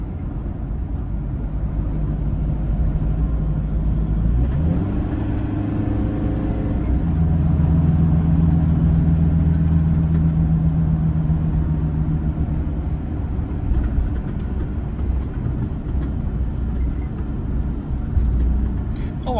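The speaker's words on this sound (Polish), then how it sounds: "świetnie sobie brzmi ten turbo diesel" The turbo diesel engine of a Mercedes bus idles and pulls with a low steady drone, with a rise in revs partway through. Cabin and road noise sit underneath, close and fairly loud.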